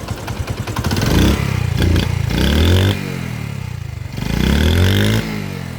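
Close-up Honda CD 70 motorcycle engine idling while the clutch is pulled and released, its pitch rising and falling in repeated sweeping surges with a mechanical clatter underneath.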